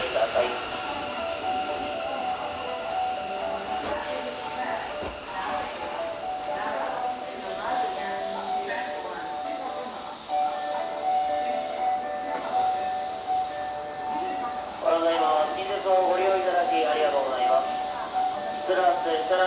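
A Kintetsu train pulls into Tsuruhashi Station, a sustained rolling rumble with tonal squeal and chiming station tones layered over it, while a voice talks across much of the scene.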